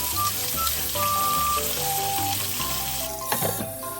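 Crispy-skinned sweetfish pan-frying in a Taiwanese home kitchen gives a constant bright sizzle beneath background music, with a brief burst of louder spitting near the end.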